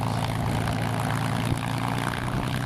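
A P-51 Mustang's Rolls-Royce Merlin V12 aircraft engine runs at steady idle while the plane taxis at an airshow, a loud continuous propeller drone close by.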